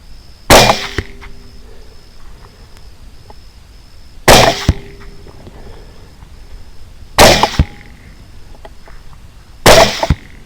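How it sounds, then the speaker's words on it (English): Four sharp rifle shots from Barnes TTSX 100 gr bullets fired at a hog ring out loud and close, spaced a few seconds apart, each followed by a brief echo in otherwise quiet open air. "Four shots and 4 hits, and eventually the hog goes down at about 125 yards from where I shot."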